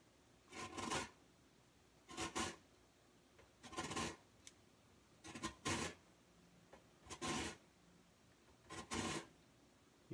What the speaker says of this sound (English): Just gonna zest off this lemon half.